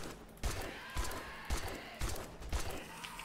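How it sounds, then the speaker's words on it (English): Five evenly spaced gunshots at a spider in a video game, each a punchy thump about half a second apart over a low ambient hum, with no talking. "So we're going to shoot him instead."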